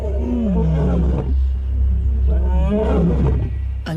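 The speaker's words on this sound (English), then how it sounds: "A lion's roar can be louder than a jackhammer." A male lion roars in deep, rumbling bursts, loud and close, with a short pause between calls.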